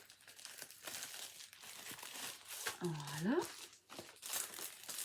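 A plastic bubble envelope crinkles close up as it is handled during an unboxing of diamond painting items, in soft bursts of crumpling and rustling. Someone speaks briefly in between.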